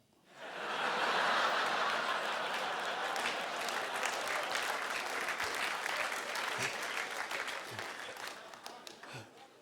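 A live stand-up comedy audience at the Sydney Opera House bursts into loud, sustained applause mixed with scattered laughter and chuckles, then slowly fades toward sparse claps.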